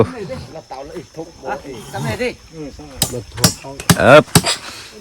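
Nails hammered into wooden bridge planks: a few sharp, loud strikes cluster near the end, while someone talks over most of the stretch.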